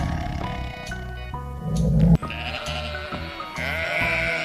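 Sheep bleating from a farm-animal sound sequence, a few wavering calls over a steady music bed, with a louder cry near the middle followed by more bleats under continuing music.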